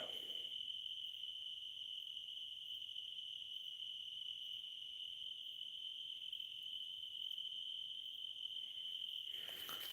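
Crickets chirp steadily at night in one dense, continuous high trill that holds unbroken throughout, fairly loud and close, with no other sounds.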